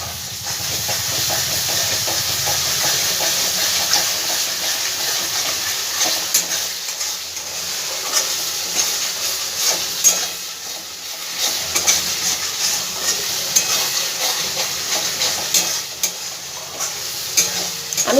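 Spice masala for chana dal fries in oil with a loud, continuous hiss and sizzle, broken by intermittent stirring scrapes, close up and with no talking.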